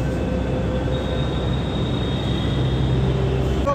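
A Delhi Metro train rumbles steadily along the rails with a low, continuous roar and faint high squeals, loud and close, with no voices.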